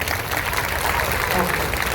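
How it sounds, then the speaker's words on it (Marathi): An audience claps at a Marathi kirtan, a devotional sermon in Maharashtra, with a dense, steady patter of hands lasting about two seconds, while voices carry on over and through it. "वाजवा की टाळ्या त्याला काय जातं"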